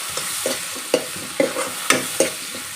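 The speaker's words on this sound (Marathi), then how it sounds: "यानंतर आपण घालणार आहोत एका टोमॅटोच्या फोडी छान असं परतवून घ्यायचं आहे" Tomato pieces sautéed in a pan give a soft frying hiss broken by a regular series of spatula scrapes and stirring knocks, about one every half second, close and alone.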